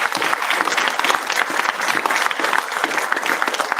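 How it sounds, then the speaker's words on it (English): A crowd at an American Airlines interview event honoring Vietnam veterans breaks into steady, dense clapping that stays loud and even throughout the short stretch. "Big round of applause."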